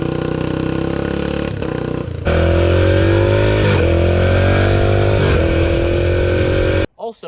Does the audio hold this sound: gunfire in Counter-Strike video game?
no